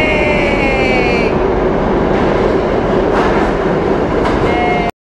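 A train rumbles past close by, a loud, steady roar of wheels and rails with some high squealing, lasting the whole time before cutting off.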